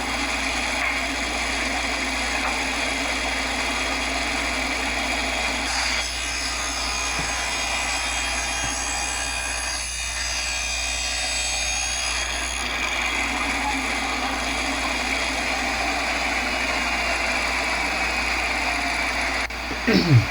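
A power saw cuts a dado in a wooden block for beehive frame side bars, a steady loud machine drone running through the whole stretch, with the pitch shifting slightly as the wood is pushed through.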